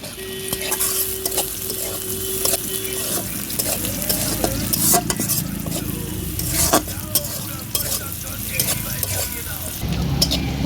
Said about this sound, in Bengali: পেঁয়াজটা ভাজা হয়ে গেল